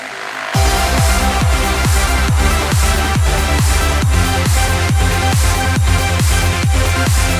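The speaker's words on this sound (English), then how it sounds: "Check out my new trance track." A trance track plays loud and steady, with a pounding four-on-the-floor kick driving a dense, continuous electronic synth backdrop with no voices.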